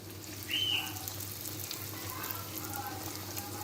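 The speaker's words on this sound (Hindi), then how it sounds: "मीडियम आंच पे आपने इनको फ्राई करना है।" Bread noodle pakoras deep frying in a kadai of hot oil over medium heat, giving a soft, steady sizzle with a brief louder bubbling burst near the start, fairly faint and unbroken by talk.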